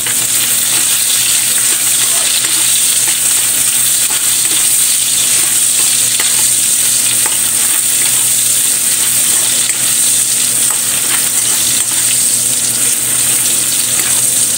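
Onion and chili sizzle steadily in a hot pan for octopus adobo, a continuous loud frying hiss with occasional stirring scrapes throughout.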